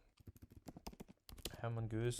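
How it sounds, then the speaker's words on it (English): Rapid keystrokes on a computer keyboard as code is typed, close and crisp, with someone talking over the typing. "So we're typing mongoose, we're typing require mongoose"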